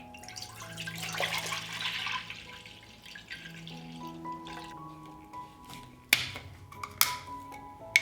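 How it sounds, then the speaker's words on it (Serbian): Fresh farm milk poured into a deep pot for homemade yogurt makes a soft, splashy liquid rush early on. Quieter dripping follows, then two sharp metallic clanks near the end. "Mleko sipam u jednu dublju šerpu."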